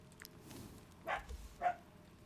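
A dog in the medieval mercenary game Wartales barks twice, short faint yips a half second apart over quiet background, no talking.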